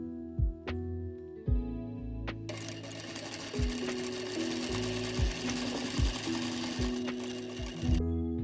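A sewing machine stitches a cotton dress with lace trim, starting with a few short whirs before settling into a long, steady mechanical run, close and fairly loud.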